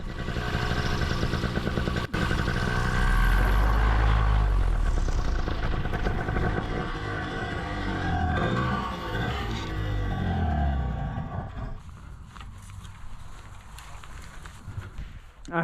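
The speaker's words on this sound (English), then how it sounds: "one of the lines fell into the prop, began to spool up." Paramotor propeller with a wing line caught in it, spinning and clattering in a loud, rough engine whir that winds down and fades toward the end, with faint voices.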